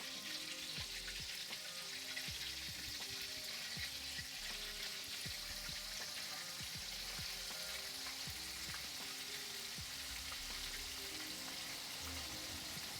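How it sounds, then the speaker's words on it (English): Buttermilk-battered chicken thighs fry in hot oil with a steady, dense sizzle and crackle, close and continuous throughout, with no talking. "Some silent frying happening over here."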